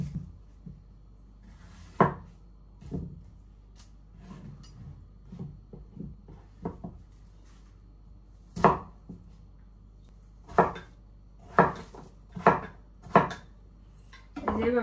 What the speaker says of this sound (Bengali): এইভাবে কেটে নিলাম গুটি গুটি করে।